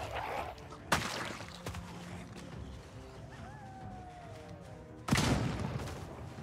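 Gunfire in Project Zomboid, two loud sharp bangs several seconds apart, with quieter rumbling and a faint rising tone in between.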